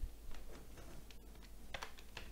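Fingers tap a computer keyboard in a steady run of light, quick clicks, close by and alone against faint background hiss while a command is entered.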